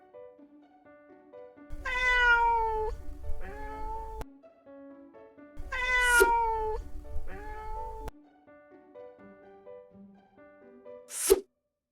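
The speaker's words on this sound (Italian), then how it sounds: "Oh no! C'è un gatto!" A cat meows twice in long, drawn-out cries, followed by a short sharp sneeze-like burst, over soft background music, close and clear.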